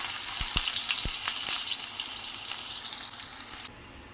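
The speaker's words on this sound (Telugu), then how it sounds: "నూనె బాగా కాగిన తర్వాత ఎర్రగడ్డలు వేసుకోవాలి ఫ్రెండ్స్" Onions hitting hot oil in a kadai, with a loud, dense crackling sizzle, a few low thumps at the start, and an abrupt cut to near quiet just before the end.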